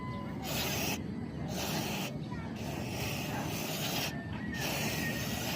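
CVT/FI cleaner chemical sprayed from an aerosol can in long loud hissing bursts, about four of them with short gaps between, close up, with someone talking at times.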